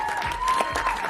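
A crowd at a film song launch event applauds for director Anurag Singh in a dense, brief burst of clapping, with a voice speaking over it.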